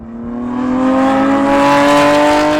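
Lamborghini Aventador SVJ, Ferrari 812 Superfast and Porsche Turbo S engines scream under hard acceleration in third gear from a 50 mph rolling drag start, a loud rising harmonic roar building steadily and holding near.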